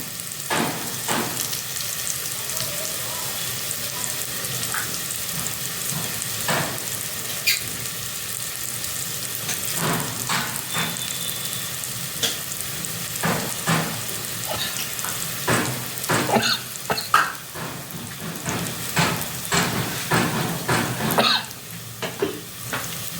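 Vegetables fry in a pan with a steady, close sizzle, broken by frequent scraping stir strokes and clatters that grow busier toward the end, with no talking.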